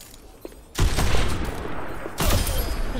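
Rapid video game gunfire erupts in two dense bursts close up, a sustained rattling fusillade that fills the clip after a quiet start.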